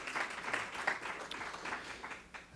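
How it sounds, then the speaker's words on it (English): A scattered round of audience clapping at a healthcare symposium in East Hampton, honoring medical staff; the applause is fairly soft and thin, with a few distinct claps rising over a steady patter. "So I'd like to give a big round of applause, if we could, to the medical staff"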